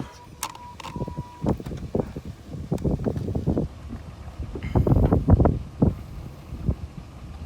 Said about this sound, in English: clutch all the way in, gas all the way in, and start cranking